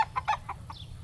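Chickens in an open pen give a short run of soft, rhythmic clucks, four or five quick notes followed by a brief higher call, close and fairly quiet over a low background hum.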